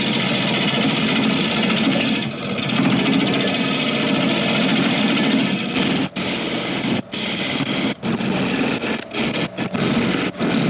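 A wood lathe turns a very hard apple log while a tool clears the base, a loud continuous whirring hum with scraping, broken near the end by several brief cuts and pauses.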